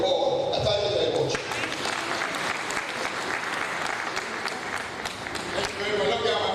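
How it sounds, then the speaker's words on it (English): An audience at a community annual symposium in Tonkolili District, Sierra Leone, breaks into sustained applause lasting several seconds, with a speaking voice just before it starts and again as it fades. "Look at my brother, round of applause."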